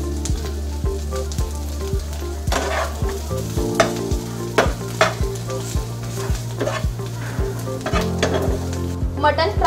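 Mutton frying in a pan with onion, mint and coriander, a steady loud sizzle broken by regular scraping stirs, with a hum running underneath throughout.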